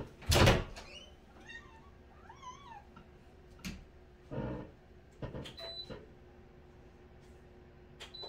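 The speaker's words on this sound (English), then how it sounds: "I gotta let my cat in here or she's gonna keep meowing at me." A house cat meows repeatedly indoors, a run of rising and falling cries, mixed with a few sharp door or cupboard clunks nearby.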